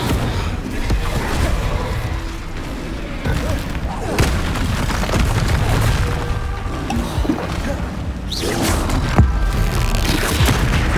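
Fire spell casts in Hogwarts Legacy combat, loud booming bursts and crackling impacts recurring through a dense, continuous battle mix with other spell effects and scattered voices.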